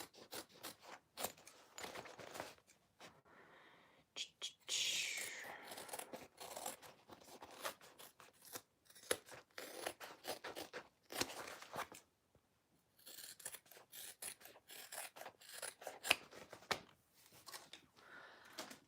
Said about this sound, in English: I am going to trim my seam allowance just a little bit